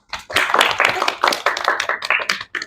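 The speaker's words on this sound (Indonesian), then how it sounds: "Pinter-pinter ya, tepuk tangan dulu." A classroom of eighth-grade students claps their hands together in an uneven, lively burst of close, sharp claps that runs nearly the whole moment before stopping abruptly.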